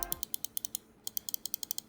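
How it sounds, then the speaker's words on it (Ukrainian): Main buttons of a Razer Viper V3 Hyperspeed mouse give sharp, crisp clicks in a rapid, even series close up, with one short pause midway. "Клік основних клавіш достатньо приємний."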